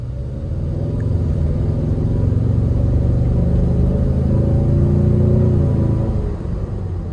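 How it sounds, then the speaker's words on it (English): A Ford Mustang EcoBoost accelerates hard from inside the cabin, a loud, steady low engine rumble that swells in pitch over several seconds and then eases off. "as I'm coming to the stoplight, I'm going to go ahead and accelerate a little bit aggressively so you can hear for yourself"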